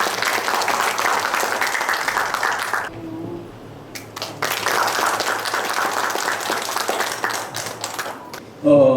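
Audience applause welcomes a lecturer onto the stage at a humanities forum lecture, loud, dense clapping that drops briefly, then resumes strongly before fading.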